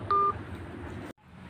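A mobile phone call tone: a brief, bright electronic beep followed by a steady low hum that cuts off abruptly, heard close and alone.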